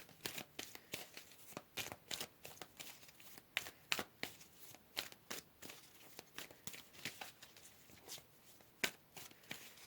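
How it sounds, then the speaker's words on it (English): A deck of tarot cards shuffled and drawn, giving faint, rapid riffling and flicking in quick irregular bursts throughout, close but soft, with no speech. "Let's pull another card here, group number 2."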